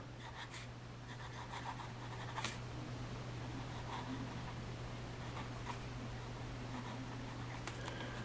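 A refillable fountain pen filled with custom ink scratches softly across notebook paper in short strokes and pauses, faint and close, over a steady low hum with no speech.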